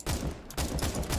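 Rapid automatic gunfire in the video game CS:GO, loud close bursts with a brief pause partway through, and no talk over the shots.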